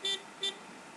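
A car in The Sims 3 gives two short, thin horn toots in quick succession, faint against a quiet background.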